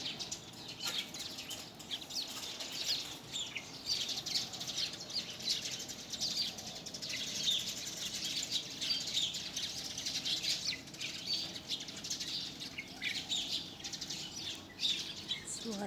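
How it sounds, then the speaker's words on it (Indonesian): Birds on and around a rooftop chirp and tweet continuously, faint and somewhat distant, with scattered bright calls over a soft background wash. "Suara burung."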